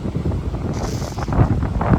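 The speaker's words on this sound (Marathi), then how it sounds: "एवढा वारा इथे" Strong seaside wind on the Ratnagiri coast near Ganpatipule buffets the microphone in a steady, loud low roar with gusts swelling throughout, no voices clearly heard.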